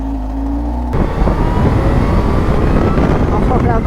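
Kawasaki Z H2 supercharged motorcycle starting a ride: a steady idle gives way to a sudden loud surge of engine roar mixed with wind buffeting as the bike pulls away.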